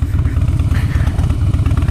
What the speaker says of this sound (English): It's a KTM